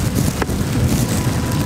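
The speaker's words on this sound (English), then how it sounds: "It's windy, it's raining," Steady wind buffeting the microphone amid rain, a constant low rumble with gusty texture throughout, no voices.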